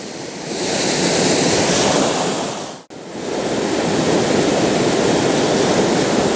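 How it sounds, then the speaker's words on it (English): The River Ffyddion rushes past near Dyserth, a loud, continuous broadband roar of water close to the microphone, briefly cutting out to near silence midway before resuming. "that water is raging right past it."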